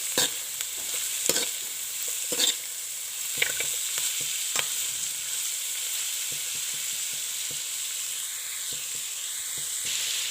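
Vegetables for fried rice being sautéed and stirred in a pan, with a steady sizzle of frying under repeated sharp scrapes and knocks of a utensil against the pan, close up and with no talk.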